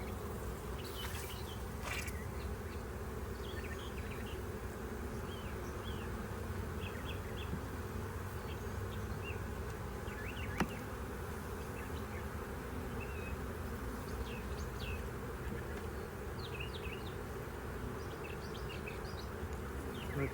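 Honey bees buzz around an open hive during a spring inspection on a farm, a steady, dense drone of many insects close by, with no voices.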